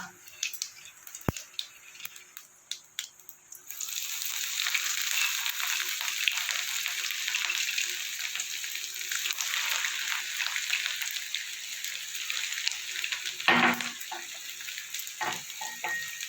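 Crushed ginger hits hot oil in a pan with bay leaf, dried chillies and cumin, bursting into a loud, steady sizzle that runs on with occasional stirring clatter.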